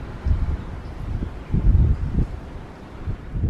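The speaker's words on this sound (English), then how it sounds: "It's so windy in this bit." Strong wind buffets the microphone outdoors at Corfe Castle, with low rumbling gusts that swell and fade in uneven bursts across the short stretch.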